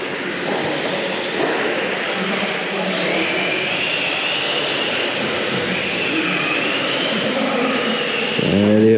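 Radio-controlled model cars racing at a club meeting final, a steady high-pitched whining drone of motors continuing throughout, fairly loud and close.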